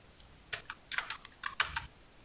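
Computer keyboard typing while entering code in a code editor: several quick bursts of clicky keystrokes in irregular clusters, close and fairly quiet, with no talking.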